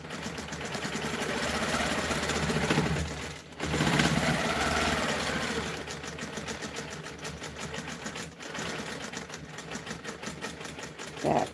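A sewing machine free-motion quilts a continuous feathered border, its close, rapid needle hum running steadily with brief pauses and slowdowns along the way.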